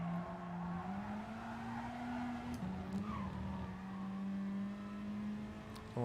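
A race car in the GT Sport video game brakes late into the Parabolica, its engine droning steadily with shifting pitch and a brief tire squeal, heard faintly without talk.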